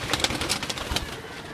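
Pigeons in a home loft coo softly amid scattered clicks, rustling and wing noise, the calls low and indistinct against a busy close-up background.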